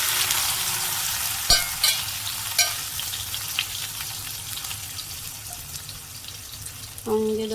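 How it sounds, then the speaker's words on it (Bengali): Soybean chunks frying in hot oil in a pan, a dense continuous sizzle with a few sharp clinks of a utensil against the pan, and a brief voice at the end. "এই তেলে আমি সয়াবিনগুলো দিয়ে দেবো।"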